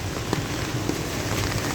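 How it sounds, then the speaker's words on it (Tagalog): Steady rain falls on a night in Bangkok, Thailand, a dense even patter with a few sharper drips close by. It is moderately loud, with no talk over it. "Maulan na gabi sa Bangkok, Thailand."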